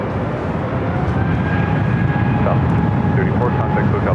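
Frontier Airlines jet in Fox livery at Los Angeles airport, arriving from Denver, a loud steady engine roar close by, with a voice talking over it.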